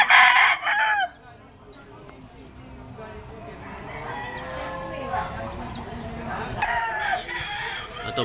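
A gamecock rooster crows at a busy outdoor market in Malabon, one loud crow up close at the start, then further clucking and crowing amid crowd noise and chatter.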